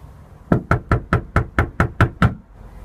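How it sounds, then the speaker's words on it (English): Nine firm, evenly spaced knocks on a door, close and loud, followed by a short silence. "let's give her a knock"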